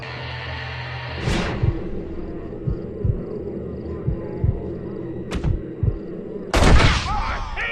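Gunfire in the Western video game Red Dead Redemption: a close heavy blast opens a burst of rapid shots and thuds, then a lone crack and a final loud booming shot, with a voice heard amid the firing.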